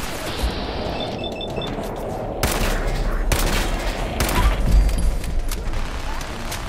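Minigun fire in Fallout 4, bursts of rapid, dense gunfire with heavy low thumps that cut in and out across several seconds, loud and close.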